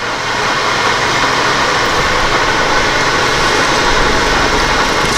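A drill bores holes into a metal plate with a loud, continuous whirring grind that holds steady throughout, close by and alone.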